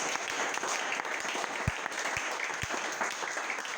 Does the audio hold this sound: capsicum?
no